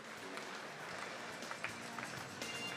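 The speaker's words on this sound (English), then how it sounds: "Round of applause, ladies and gentlemen." An audience applauds at the Golden Shears sheep-shearing competition in 2020, the event's 60th anniversary: a steady wash of crowd clapping that stays fairly faint and continuous throughout.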